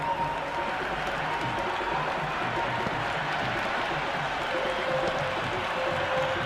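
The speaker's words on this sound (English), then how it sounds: "It's the most enthusiastic crowd you could ever see right now. There's a buzz, a real buzz coming from the stands." A cricket stadium crowd at a PSL match between Lahore Qalandars and Hyderabad Kingsmen roars steadily after a boundary, a dense, distant wash of cheering and applause that holds at an even level throughout.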